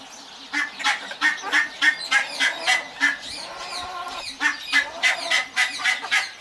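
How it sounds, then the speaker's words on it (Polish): Geese honk repeatedly in a noisy, overlapping chorus, loud harsh calls in quick succession, nearby. "a tam coś się gąski mi wydzierają"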